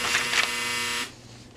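A freeze dryer gives a steady electronic beep that holds for about a second, then cuts off, leaving faint room noise.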